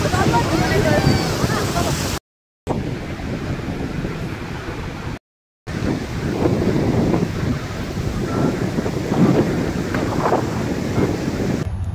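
Wind buffets the microphone at a sea beach while waves wash and surge in the background, a rough, continuous roar broken by two short silent gaps.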